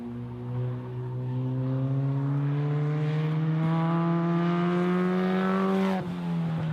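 Mini NASCAR race car engine on a circle track, revving loudly and steadily climbing in pitch through a gear, then a sharp shift and renewed acceleration.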